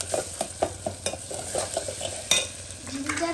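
A spoon stirs ginger in a sizzling frying pan, scraping in a quick, regular rhythm of close, distinct strokes over a constant fry hiss.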